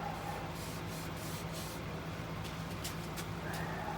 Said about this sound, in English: Just washing it off.